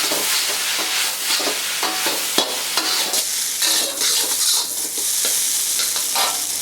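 Vegetable Hakka noodles being stir-fried with light soy sauce, chili garlic paste and vinegar: a steady loud sizzle broken by repeated clattering scrapes and tosses of a utensil in the pan, no voices.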